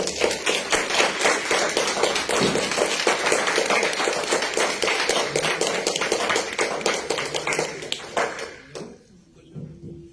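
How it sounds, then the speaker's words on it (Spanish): Steady applause from a seminar audience at a lecture on optical and electronic nanolayer applications, dense overlapping claps lasting about eight seconds before tapering off into near silence. "Un fuerte aplauso, por favor."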